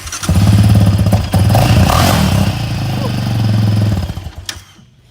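A Yamaha Raptor 700 ATV under steering stem repair cranks and catches, then idles and revs with a loud, close, chugging single-cylinder thump that surges and finally cuts off.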